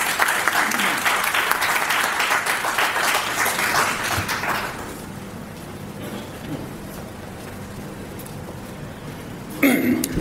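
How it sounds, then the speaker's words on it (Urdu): Loud, dense audience applause greets a performer about to present Allama Iqbal's poetry, sustained for about four seconds before fading into a quiet murmuring hall, with a brief noise near the end. "آپ کی زوردار تالیوں میں."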